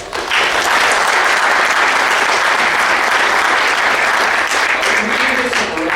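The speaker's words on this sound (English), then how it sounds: "I'll ask you to give them a short round of applause" A crowd applauds the panelists at an event on healthcare technologies, giving sustained, uniform clapping that holds at full strength throughout, with a voice faintly surfacing near the end.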